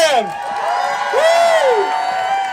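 Crowd at a Washington State rally cheering and whooping loudly, with sustained shouts and rising voices filling the space.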